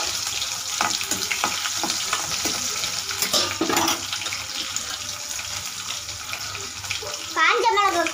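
Crushed garlic dropped into hot oil with popped mustard seeds and cumin for a beans poriyal, a continuous close sizzle with scattered crackles and a few utensil knocks, with a brief splash of water near the end.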